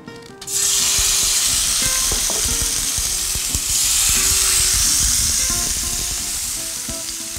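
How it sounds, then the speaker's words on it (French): Chicken pieces sear in a little oil in a pan, a loud continuous sizzle that starts abruptly and holds steady, with occasional scraping clicks of stirring. "Et on va faire saisir les morceaux de volaille. J'ai mis un peu d'huile."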